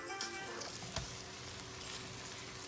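Onions sautéing in a pan, giving a faint, steady sizzle with a couple of soft clicks, quiet and without talk.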